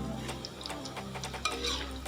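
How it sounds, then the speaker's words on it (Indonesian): Potato strips frying in hot oil for French fries, a steady close sizzle with faint clinks of a utensil stirring in the pan, no talking. "sekarang saya tinggal melanjutkan untuk menggoreng sisa-sisa kentang yang tinggal sedikit lagi"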